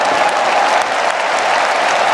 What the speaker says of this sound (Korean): 나오실 때에 뜨거운 박수로 격려해 주시기 바랍니다